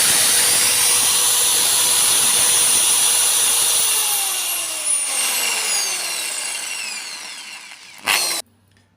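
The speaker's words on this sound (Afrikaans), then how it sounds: "En nou is ons terug by die boor, by die merk wat ek vooraf gemaak het." An electric drill runs with a loud, steady whir, then slowly winds down with a falling pitch, followed by a brief final burst before it stops; no one speaks.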